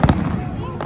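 Fireworks at Downtown Disney burst once with a loud, close boom, followed by a crackling decay amid crowd chatter.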